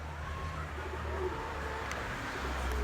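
Pigeons coo softly in a low, steady murmur against a constant background hum, with faint chirps here and there and no talking.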